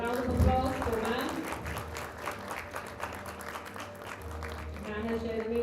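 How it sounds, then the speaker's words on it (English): Conference audience at a principals' conclave clapping for an honoured speaker, sustained moderate applause with an announcer's voice over it at the start and end. "A round of applause for ma'am."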